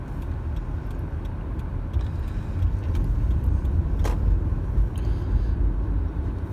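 Road traffic at 5:30 p.m. rush hour, heard as a steady low rumble of passing cars with a broad swell midway, fairly close and without talk.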